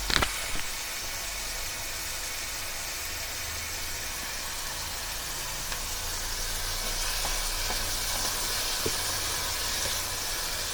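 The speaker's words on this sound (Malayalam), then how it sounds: "ഷാലോ ഫ്രൈ ആവുന്നവരെ ഇതുപോലെ ഒന്ന് വെയിറ്റ് ചെയ്യണേ" Paneer coated in masala shallow frying in a pan, a continuous bright sizzle and hiss with a few small pops, close and steady, no voices over it.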